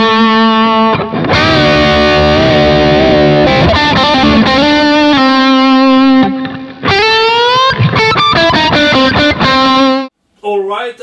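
Distorted electric guitar through a Tone City Golden Plexi overdrive pedal, ringing chords and single notes with bends and slides, loud and steady, breaking off briefly near the end.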